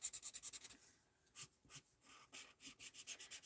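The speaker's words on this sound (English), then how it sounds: "You can see how this chalk pen is starting to go a bit." A chalk pen scratches across cardstock in quick bursts of short rubbing strokes, close and faint, with brief pauses between groups of marks.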